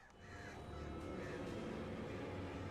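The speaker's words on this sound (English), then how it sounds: "Oh, is it the crows? Am I being attacked by the crows now?" Crows cawing in the Alan Wake (2010) video game, a low, steady ambient bed with faint caws rising over a rumbling background, no voices present.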